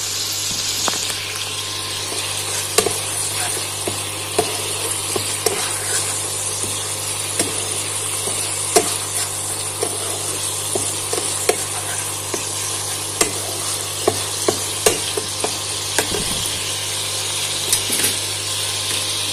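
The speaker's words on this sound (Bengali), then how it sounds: "এবার ভালো করে এটাকে আমি কষিয়ে নেব।" Paneer butter masala is stir-fried in a pan, with steady sizzling under frequent scraping and clattering spatula strokes. The sound is close and continuous, with no voices.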